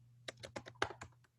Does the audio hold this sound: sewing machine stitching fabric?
no